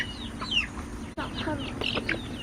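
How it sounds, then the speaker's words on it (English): Chickens cluck and chirp up close in short scattered calls, with people talking in the background. "The chickens are attacking us."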